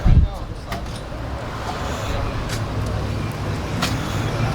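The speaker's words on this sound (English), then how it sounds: "Nice Chevelle pulling in" A Chevelle rolls into a Saturday classic car show with a steady, low engine rumble close by. Someone talks over the sound of the car.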